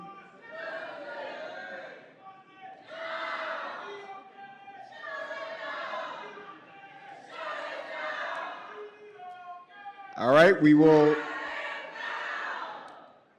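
Crowd noise breaking out at a Los Angeles City Council meeting, with loud shouting and overlapping voices that surge sharply near the end, mixed with a chair's amplified voice addressing the room.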